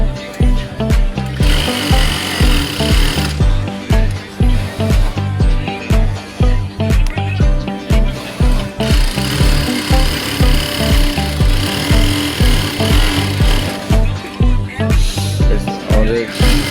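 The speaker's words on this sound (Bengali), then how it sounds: "এখন আমরা স্পিডে চালাই দেখবো যে মেশিনটা স্পিডে চালালে সুতা কাটে কিনা" A sewing machine runs at full speed after a timing adjustment, loud and close, with a fast, steady mechanical chatter broken by brief slowdowns and restarts.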